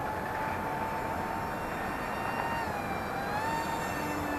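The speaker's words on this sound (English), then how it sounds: "Okay, I'm going to go full throttle here." A small XK A1200 EPO foam RC airplane's electric motor running at full throttle gives a steady, continuous high-pitched whine with a tone that rises slightly midway, heard at a moderate distance without talk.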